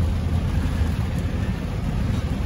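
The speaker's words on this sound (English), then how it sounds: "It's not a bad storm, man. It's just heavy rain." Heavy rain pours down steadily during a Friday thunderstorm in a parking lot, a dense, continuous roar with no voices.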